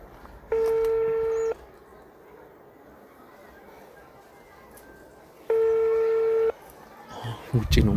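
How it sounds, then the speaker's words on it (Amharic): Telephone dialing tones sound as two steady, clear beeps about a second long, separated by several seconds of quiet room background, with a brief clatter near the end. "ልደውልለት መሰለኝ ልደውልለት ስልኩን አምጣው"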